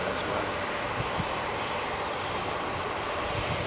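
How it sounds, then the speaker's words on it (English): A United jet with Pratt & Whitney engines at Heathrow Airport gives off a continuous roaring whine, loud and steady across the whole stretch, with no voices over it. "Follow this United jet out"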